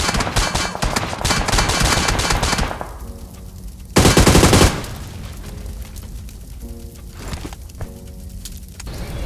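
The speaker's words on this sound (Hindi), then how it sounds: "उसके बाद सामने के स्नाइपर टावर से मेरे ऊपर फायर होता है" Rapid bursts of automatic gunfire in a mobile battle royale shooter, fired from a sniper tower, with dense rattling volleys, a sudden loud boom-like burst midway, then sparser shots and game effects.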